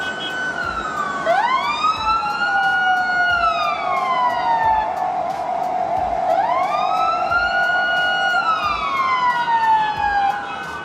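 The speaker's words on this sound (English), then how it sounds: "Once the siren goes off, the cars instantly move aside" Ambulance siren wailing through traffic in Germany, a loud rising-and-falling two-tone sweep repeating close by over steady road and engine rumble, with no voices.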